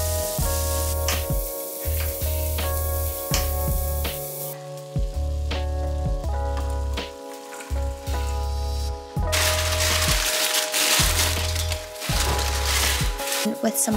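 Chopped pepper and celery sizzle in a frying pan, a steady bright hiss with crackles that swells louder toward the end, under background music.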